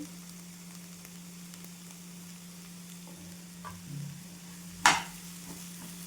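Drumstick flowers fry in oil as they are stirred, a soft sizzle under a steady hum, with a brief scrape and one sharp clatter of the spoon against the pan.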